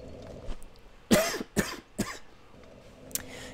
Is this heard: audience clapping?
no